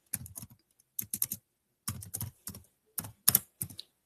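A folder name is typed on a computer keyboard in several quick bursts of crisp key clicks separated by short pauses, quiet and close with no talking.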